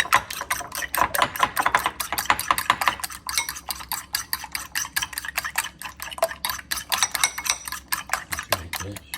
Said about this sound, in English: Little seasoning salt. Little salt. I'm just going to beat it up.